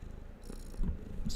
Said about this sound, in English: That purring. She's so happy.